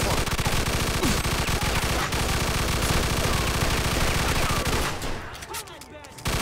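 Rapid machine gun fire in the Mafia II video game, loud and continuous bursts with dense rattling, dropping off near the end before a final shot.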